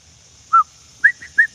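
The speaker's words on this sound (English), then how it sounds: "I hear them old birds are singing" Short, clear bird chirps ring out, one alone and then a quick run of three or four, over a quiet background.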